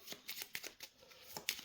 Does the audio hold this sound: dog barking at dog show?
no